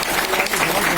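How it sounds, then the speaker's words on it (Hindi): An audience at a Basant festival event gives a brief burst of dense clapping, close and lively, lasting about a second. "जोरदार तालियां एक बार"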